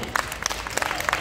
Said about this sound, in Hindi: बाप का प्रोग्राम देखने के लिए बच्चे जोरदार ताली बजा